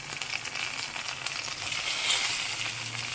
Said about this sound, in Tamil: இந்த ஸ்டேஜில் நம்ம நறுக்கி வச்ச தக்காளியை சேர்த்துக்கலாம்.